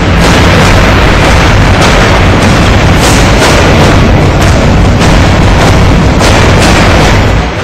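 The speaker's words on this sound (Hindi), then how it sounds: "इसके लिए 82 mm से लेकर 125 mm तक के मोर्टार का इस्तेमाल किया जा रहा है।" Loud mortar fire from 82 mm to 125 mm tubes along the Jammu and Kashmir border, with repeated heavy booms and bursts landing in quick succession over a dense, continuous roar of distant shelling, with no voices.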